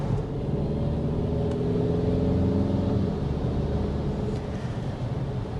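Turbocharged engine of a 2026 Volkswagen Tiguan with an 8-speed automatic pulling under steady acceleration, a loud continuous rumble with a smooth rising drone heard from inside the cabin and no talking.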